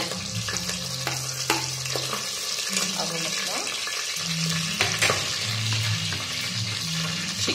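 Marinated chicken frying and sizzling in a hot pan, with a steady broad hiss and crackle running throughout and occasional sharper pops and spatters standing out.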